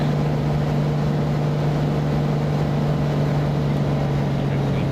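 Cessna Centurion piston engine at reduced power in the X-Plane 10 flight simulator, a steady loud drone with a constant low hum and broadband noise, unchanging throughout.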